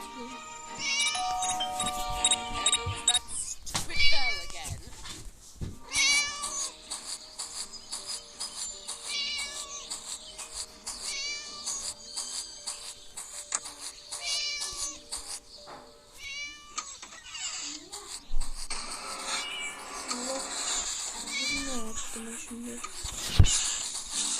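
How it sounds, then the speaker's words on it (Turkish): Cat meows from the Scary Teacher 3D video game, repeated several times over busy game music and sound effects, with people talking throughout. "Shut up, you silly cat."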